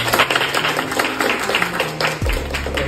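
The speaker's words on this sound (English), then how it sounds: "So round of applause for Adobe" An audience at an Adobe and BRIDGEGOOD creative event claps energetically, a fast, dense patter of hands, fairly loud, with a brief low thump near the end.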